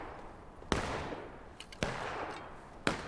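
Three separate musket shots from the Civil War game War of Rights, spaced about a second apart, each a sharp crack with a rolling tail, fired at middle distance over faint ambient battlefield noise.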